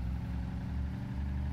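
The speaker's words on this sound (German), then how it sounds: "Aber ich merke gerade, Auto ist noch zu laut." Car engine running in the DayZ Epoch video game, a steady low rumbling drone that holds at an even level throughout, with no talk over it.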